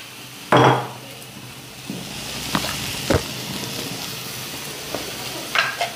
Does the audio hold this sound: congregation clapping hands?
no